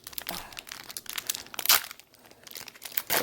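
A Pokemon card pack's foil wrapper is crinkled and torn open up close, with bursts of sharp crackling rustle and a few louder rips, no voices.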